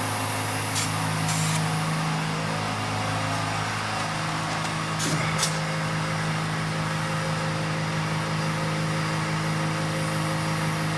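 Air hisses steadily into a tyre on an old MG Midget barn find left parked for 29 years, a continuous close rush of flow with a couple of brief clicks partway through.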